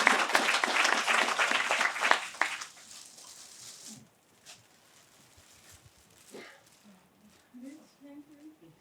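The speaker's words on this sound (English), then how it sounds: "Applause for Job also." Audience applause at a healthcare AI and robotics event, loud, dense clapping for about four seconds, then fading out into quieter room sounds with a few scattered claps and faint voices.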